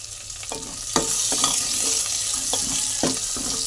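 Dried red chillies fry in a hot tempering for tomato dal, a continuous soft sizzle broken by regular spoon scrapes against the pan roughly every half second, with no talking.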